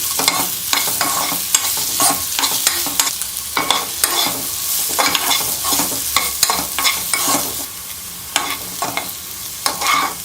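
Onion and garlic cloves sautéing in a pan, a loud continuous sizzle broken by frequent clattering stirs and scrapes of a spoon, close and alone.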